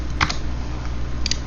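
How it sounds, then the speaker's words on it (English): Stock tickers are typed on a computer keyboard, with a quick pair of clicks near the start and another pair near the end, set over a steady low hum and heard close and isolated, with no voices. "I'll just type them in."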